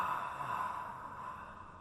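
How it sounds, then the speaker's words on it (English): A person breathes out in a steady staged exhalation while walking, a continuous soft breathy rush heard close and fairly quiet, with no talk. "breathing out in a 4-stage exhalation like this"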